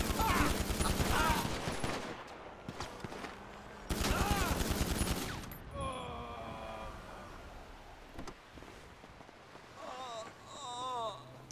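Rapid automatic gunfire from GTA 5 rattles in two loud, dense bursts, then fades. Someone talks afterward with scattered faint pops behind him.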